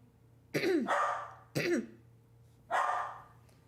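A dog gives three loud, close barks, two in quick succession and then one more after a short pause, with nothing else sounding.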